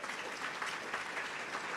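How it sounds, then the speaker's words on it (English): An audience at a Fairport community celebration breaks into steady, even applause, a dense wash of clapping heard at moderate distance with no voices on top. "Let's give Lindsay a big round of applause."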